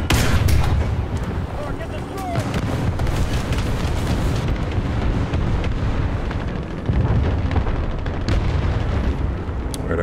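Tank cannon fire from an M2A4 in War Thunder ground battle, heavy booming blasts over a constant rumbling battlefield din, with a player talking briefly.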